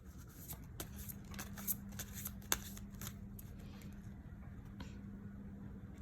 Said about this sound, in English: I already shuffled the cards. I'm just doing it in front of you.